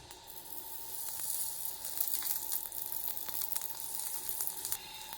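A dosa fries on a hot pan with oil, giving a continuous close bright sizzle with faint crackles throughout and no talk.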